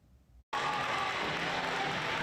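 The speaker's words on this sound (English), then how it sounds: "Parents and students are packed inside a middle school gym, cheering for the school's wrestling team" Parents and students packed into a middle school gym cheer loudly for the school's wrestling team, a dense sustained roar of crowd noise and clapping that bursts in after a brief silence and holds steady.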